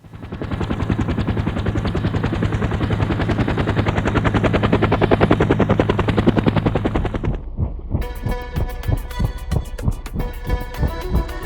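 A helicopter flies over the mountains of Nepal, its loud, steady rotor chop thumping continuously before shifting to a sharper, more distinct rhythmic beat near the end.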